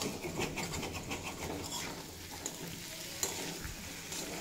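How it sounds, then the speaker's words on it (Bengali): Potato and pumpkin chunks stir-fried with spices in a pan over low to medium flame, a steady close sizzle with scraping stirs and clinks running throughout, no voices. "মশলার সাথে আলু কুমড়ো 2-3 মিনিট মতো কষিয়ে নিয়েছি।"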